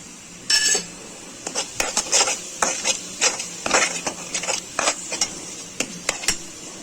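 A spoon stirs and scrapes through paneer masala with turmeric powder in a pan, giving a rapid series of close, crisp scraping and clinking strokes in an irregular rhythm, with no talk.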